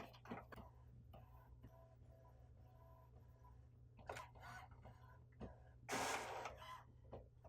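An HP OfficeJet Pro 8210 inkjet printer running its setup alignment print, giving faint ticking and clicking mechanism sounds with a brief louder whirring feed burst near the end, under a steady low hum.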